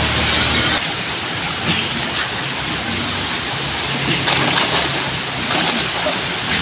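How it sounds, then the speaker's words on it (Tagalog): Heavy downpour in a flooding area with water rising, a dense, loud, unbroken hiss of rain and splashing water throughout, with no clear voices over it. "Lumakas po yung ulan"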